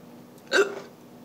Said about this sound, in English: Give me the hiccups.